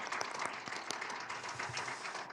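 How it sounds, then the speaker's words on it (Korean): Steady applause from a church congregation, many hands clapping at once in a dense, continuous patter at moderate volume. "여러분들 큰 박수가 필요합니다. 많이 박수해 주시면 감사하겠습니다."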